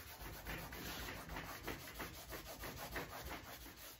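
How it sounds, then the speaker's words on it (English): Hand-buffing wax into the painted surface of a refrigerator with a cloth, a steady close scratchy rubbing with rhythmic back-and-forth strokes and no talking. "I just want to buff this wax in."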